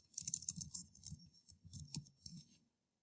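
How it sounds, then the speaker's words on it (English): Typing on a computer keyboard, quiet rapid clusters of light clicks in several short bursts over a few seconds, close and soft with no talking. "you have to type everything in"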